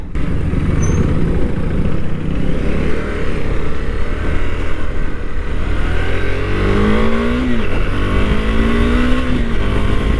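A KTM Adventure 390 motorcycle engine roars steadily and climbs in pitch as it accelerates, loud and close, with wind rush throughout.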